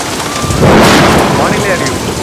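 Heavy rain pours down in a continuous dense hiss, swelling louder midway with a deep thunder-like rumble, while faint voices sound underneath.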